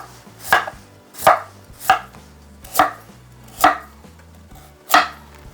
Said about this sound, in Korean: 이 두께는 조금 얇다시게 썰어 주세요.